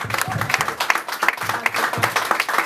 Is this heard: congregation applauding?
yes